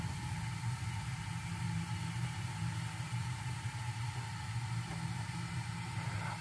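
A Lennox G12 furnace's fan motor runs steadily after kicking on, a constant low hum with broadband airflow rush that holds at an even level throughout, with no talking.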